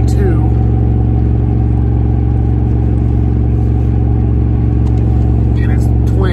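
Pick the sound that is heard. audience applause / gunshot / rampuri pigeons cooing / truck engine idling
truck engine idling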